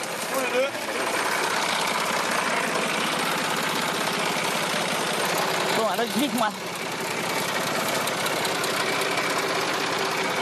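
A tractor engine runs on a farm with a steady, fast mechanical knocking chug that holds throughout. People talk briefly over the engine.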